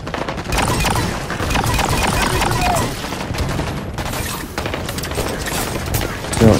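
Sustained gunfire from a Halo 5 Warzone battle, dense and continuous through the stretch with scattered louder shots, mixed with game effects and a brief voice near the end.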